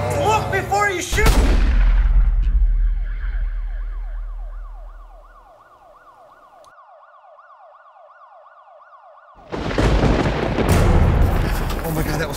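Gunfire from an action comedy zombie film: loud bursts of shots open the scene, then a long warbling siren-like tone follows, and another heavy volley of gunfire comes at the end.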